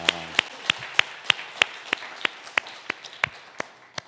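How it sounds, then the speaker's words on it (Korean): A church congregation at a Sunday worship service claps in a slow, even, unison rhythm, about a dozen sharp, distinct beats spaced evenly, heard from a short distance and fading slightly toward the end. "기도해 주신 하나님 앞에 박수를 드렸습니다."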